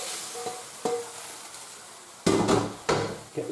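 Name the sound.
stirring beef stroganoff mixture in a pan with a spatula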